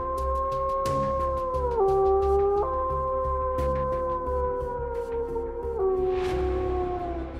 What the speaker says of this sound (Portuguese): Foi quando ele ouviu uivos.